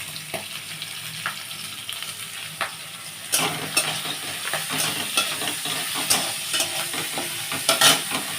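Onions and green chillies frying and sizzling in a pan while being stirred, a steady close crackle with sharper spatters and scraping stirs throughout.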